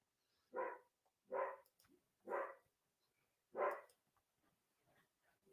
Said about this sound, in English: Jazzy's out there barking at the neighbors.